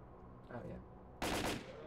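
Gunfire from a weapon in S.T.A.L.K.E.R.: Call of Pripyat, a short rattling burst that rises sharply near the end, over a steady game background.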